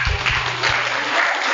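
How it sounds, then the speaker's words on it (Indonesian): Audience applause at an Islamic lecture for teenagers, a short dense burst of clapping from a crowd, fairly loud and steady. "Aplaus dulu."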